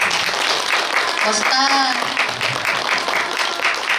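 A room of participants at a membership training gathering claps steadily through the whole stretch. A voice briefly calls out over the applause partway through.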